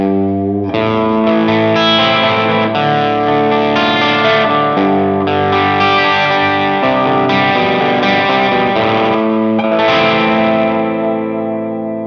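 An electric guitar runs through a Nabla 19 Marshall-style distortion pedal, producing thick, sustained driven chords and notes that ring out loud and close with brief gaps between phrases, and no voices.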